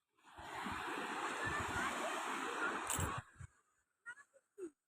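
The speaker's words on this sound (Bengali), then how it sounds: "ঢেউর শব্দটা দেখো" Sea waves surge and roll in a dense, loud wash on a foggy coast, then cut off abruptly, leaving a few brief voices and small knocks.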